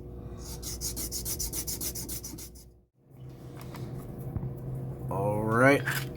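Hand honing of a thick part for a Miranda Hornet boat refit, with a steady scraping, rasping rhythm of repeated strokes for the first few seconds, a brief pause, then softer rubbing under a voice.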